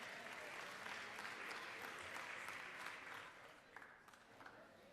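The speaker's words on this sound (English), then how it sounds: "Give them a big round of applause again." Sustained applause from a crowd of lawmakers and guests fills the Georgia House chamber, steady at first and then thinning to scattered claps near the end.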